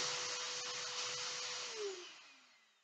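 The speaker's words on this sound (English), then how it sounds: "Let it suck for a good 10-15 seconds." A vacuum forming machine runs its suction pump with a loud, steady whine and airy roar that slowly fades and drops in pitch as it winds down.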